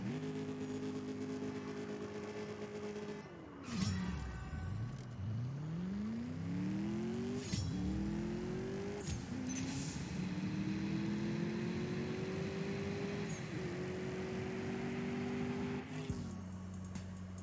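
Mercedes-AMG S 63 Coupe engine in the CSR2 racing game, revving through repeated rising gear pulls on a dyno run. A steady mid-pitched engine tone climbs after each shift, with brief drops between pulls, sustained throughout and no talking.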